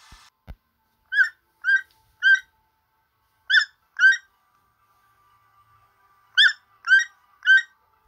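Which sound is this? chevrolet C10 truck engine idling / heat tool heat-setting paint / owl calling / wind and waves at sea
owl calling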